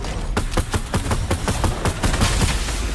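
Rapid video game gunfire aimed at a mech: a steady stream of sharp, evenly spaced shots in quick succession, loud and close, with no talking.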